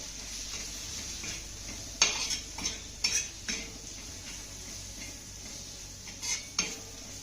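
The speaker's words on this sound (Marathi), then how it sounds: "आता हे घातलेले मसाले आपल्याला चांगले मिक्स करून घ्यायचे" Spoon scraping and stirring spices into onions in a pan, with a handful of sharp clinks and scrapes over a quiet kitchen background and faint sizzle.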